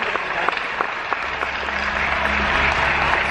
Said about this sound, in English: Big round of applause for Eric.